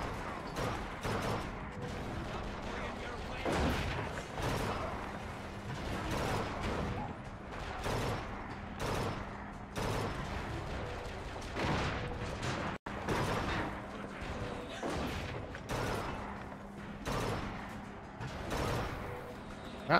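Enemies firing guns in the video game Bioshock Infinite, a steady stream of repeated gunshots and bursts with mechanical clatter, dense and continuous over game ambience.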